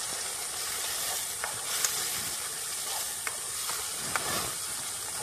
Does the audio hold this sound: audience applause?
no